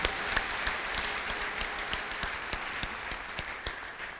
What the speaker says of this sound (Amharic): ለእግዚአብሔር ክብር ምስጋና አጨብጭቡ።